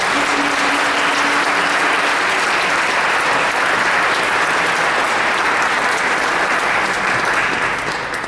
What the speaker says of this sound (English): Let's give a collective round of applause for them.